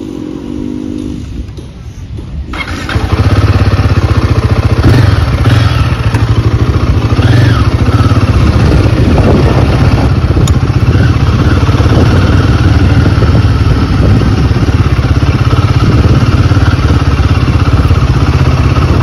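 A Royal Enfield Guerrilla 450 motorcycle's single engine starts up after a few quiet seconds, then runs steadily and loudly close by, a low continuous throb with light clatter and mild revving, with no one talking.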